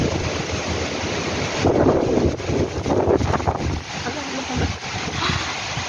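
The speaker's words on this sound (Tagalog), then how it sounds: "Lakas ang hangin." Strong Typhoon Signal No. 8 wind in Lohas Park, Hong Kong, buffets the microphone with loud, gusting roar, surging and easing, while a voice speaks faintly underneath.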